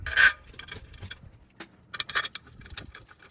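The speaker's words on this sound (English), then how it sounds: "Now we're going to grab the bolts and nuts and affix it to the lower plenum" Metal bolts and nuts for a Toyota 3.4L 5VZ-FE V6 lower plenum clink and jangle close by in short, irregular bursts, with rubbing and scraping between the clatters.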